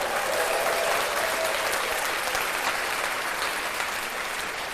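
Steady, dense applause from a crowd, continuous and fairly loud throughout with no pauses.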